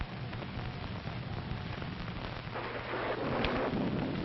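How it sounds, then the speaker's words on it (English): Steady heavy rain with a low rumbling thunderstorm, a dense continuous wash of downpour that swells slightly louder toward the end, with no voices. "It's liable to rain all night."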